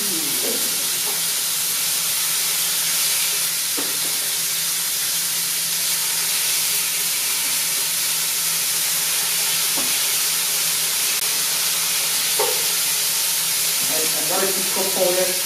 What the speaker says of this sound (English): Okay, so now we're going to sear.